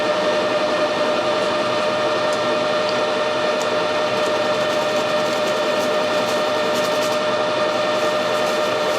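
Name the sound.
apple peeling machine running at 640 RPM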